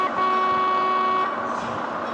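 A truck horn in the Truck of Europe 3 driving game sounds a steady, loud tone for about a second, then drops away while engine and road noise carry on underneath.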